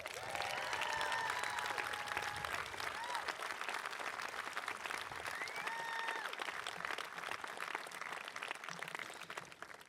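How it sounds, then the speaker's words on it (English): Sustained, dense applause from a high school graduation audience fills the whole stretch at steady strength, with crowd murmur mixed in beneath the clapping. "they also deserve a very loud round of applause"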